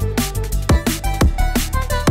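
Kick drum and bass distorting as they hit a limiter, punchy thumps landing about every half second over a buzzing, crunchy low end, loud and dense with no voices.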